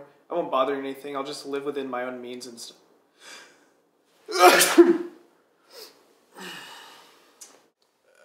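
Someone talks, then a single loud sneeze bursts out, followed by quiet breaths and a few soft sounds.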